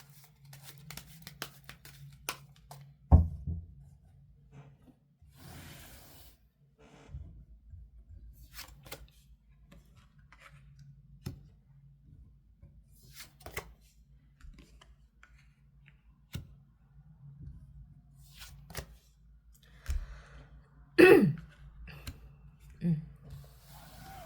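Tarot advice cards being drawn and shuffled, with soft sparse card flicks and taps over quiet room tone and a louder rustle of handling near the end.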